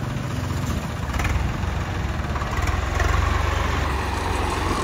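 A John Deere 5205 tractor engine runs at a steady, rumbling idle with slight swells in loudness, fairly close, with a faint high whine above it and no speech.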